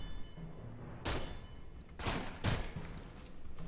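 Pistol shots ring out in Aliens: Colonial Marines as a few separate, fairly faint bangs about a second apart, each trailing off with a short echo over low background noise.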